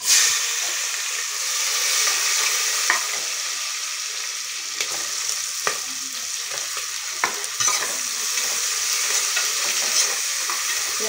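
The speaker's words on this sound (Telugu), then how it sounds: "ఇదే నూనెలో మరి ఉల్లిపాయలు అయితే కొన్ని వేసుకుని వేయించుకుందామండి." Sliced onions fry in hot oil for egg biryani, giving off a continuous bright sizzle with occasional sharp crackles and soft stirring scrapes, steady and close with no talking.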